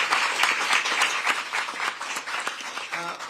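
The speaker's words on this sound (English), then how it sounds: "Let's give another round of applause to our mayor." An audience at a governor's public event in Syracuse, New York, applauds the mayor with a dense, steady round of clapping that eases off near the end, where a voice briefly cuts in.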